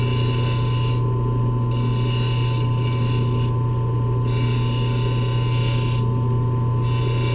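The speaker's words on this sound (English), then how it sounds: "this one isn't cutting near as much as the first wheel was, and you can definitely hear the difference between the different grits" A fuchsite cabochon held against a spinning grinding wheel of finer grit, giving a continuous loud whirring hum with a faint rasp from the stone, steady throughout and heard close up without speech.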